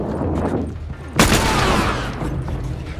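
Gunfire in The Last of Us Part II, with one loud, sharp shot cutting through a busy game soundscape of rumble and background noise, followed by a fading tail.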